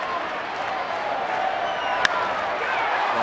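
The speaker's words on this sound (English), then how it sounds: "Absolutely woke up this crowd." Baseball stadium crowd at a Cubs at Pirates game cheering and applauding, a steady wash of crowd noise with a sharp clap or thud partway through.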